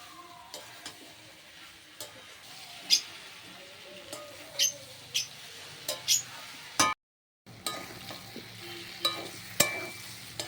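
Curry masala sizzles gently in a pan while a spatula scrapes and taps against the metal in intermittent clicks, with a voice talking quietly and a short silent gap partway through.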